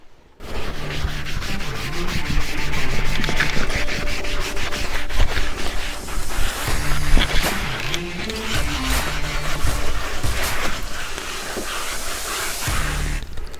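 Continuous close rubbing and wiping over the leather interior of a Mercedes W124 E500 Limited as it is cleaned, a steady scrubbing texture that holds for most of the stretch with no voices over it.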